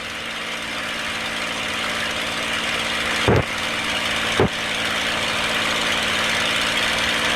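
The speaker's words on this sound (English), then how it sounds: "Now we're going to do a magneto check." A TF-51 Mustang aircraft engine runs steadily at a loud, close, rumbling roar during a magneto check, with two brief sharp dips or pops in the steady drone as the check proceeds; no talking.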